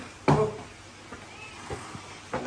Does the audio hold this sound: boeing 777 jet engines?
no